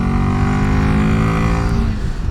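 A Royal Enfield Himalayan 450 single-cylinder motorcycle accelerates with a loud, close, continuous engine drone that holds steady and eases slightly near the end, with no talking.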